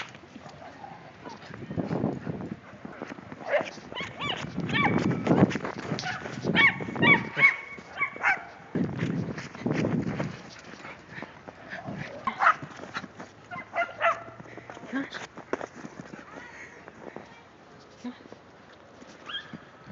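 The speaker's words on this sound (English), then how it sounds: "stop barking" A dog barks in repeated bursts in the snow, some yips and whimpers mixed in, while people talk nearby.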